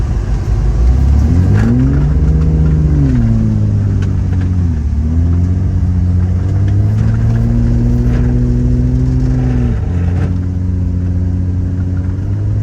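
A lifted Jeep WJ on 37-inch tires spinning around on icy snow, its engine revving loud and close, pitch rising and falling in long sweeps with a sudden drop near the end.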